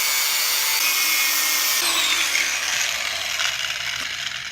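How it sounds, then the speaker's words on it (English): An angle grinder grinds against a bike chain rivet, a loud, harsh, continuous high whine up close that shifts in pitch partway through as the disc bites the metal. "Basically, we're gonna grind it."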